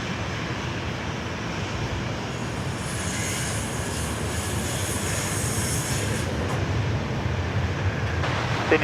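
A Jetstar jet airliner takes off at Sydney Airport, its engine roar swelling steadily as a broad, distant rumble and hiss with no voices.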